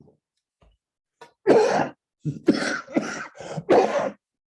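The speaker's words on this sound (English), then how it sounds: "So you get to hear me cough." Several harsh coughs in quick succession from a person close to the microphone, loud bursts with short gaps between them and no other talk around them.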